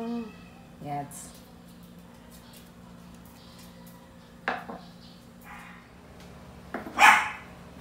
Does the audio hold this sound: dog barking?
yes